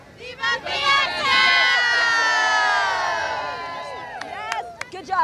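A live crowd at a San Antonio Fiesta event shouts and cheers together in a loud, sustained burst after a short countdown, then the cheering tapers off into scattered whoops.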